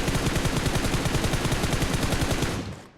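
Rapid automatic gunfire in the mobile battle royale game PUBG Mobile, a loud dense burst of shots firing continuously for nearly three seconds before cutting off and fading.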